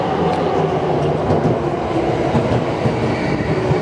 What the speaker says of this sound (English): Oh, here's our train.